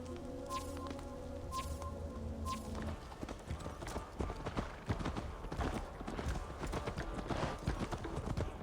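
Steady clip-clop of horse hooves trotting at a brisk, even rhythm in the video game Assassin's Creed Valhalla, close and fairly loud, after a brief stretch of tonal game music.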